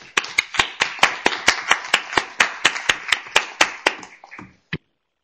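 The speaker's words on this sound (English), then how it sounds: "I think that's worth an applause." Steady rhythmic hand clapping from participants at an ICANN57 Non-Commercial Users Constituency meeting room, about sixteen sharp even claps close to the microphone before stopping abruptly.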